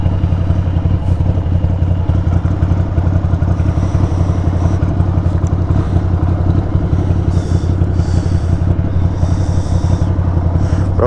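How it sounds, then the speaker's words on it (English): Strong wind buffets a motorcyclist riding on the road, a steady loud roar and rumble mixed with the bike's engine drone, continuous throughout with no talk. "That's all wind right there, that wobbling in."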